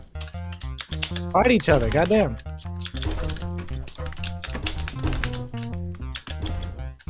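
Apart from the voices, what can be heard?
typing on Razer Huntsman linear and clicky keyboards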